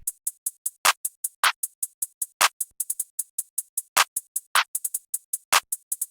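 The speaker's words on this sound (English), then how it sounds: "Two claps." Two stacked clap samples in an FL Studio trap beat hit sharply on a repeating backbeat over a steady, bright hi-hat pattern, loud and without any talk.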